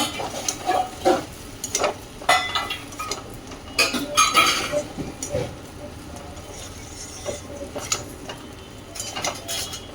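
Potato masala being stir-fried with previously fried flour in a pan: repeated scraping and clinking of a spoon against the metal pan over a low sizzle, close and steady, with no talking.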